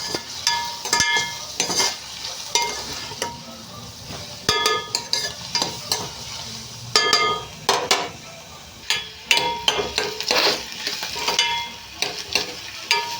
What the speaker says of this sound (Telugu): ఉల్లిపాయలు అయితే వేగిపోతుందండి ఇంకా అయితే బాగా వేగాలి